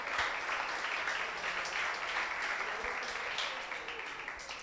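A church congregation applauds for several seconds during a Spanish-language sermon, a dense, steady wash of many hands clapping that slowly fades.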